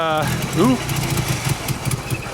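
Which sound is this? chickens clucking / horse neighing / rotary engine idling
rotary engine idling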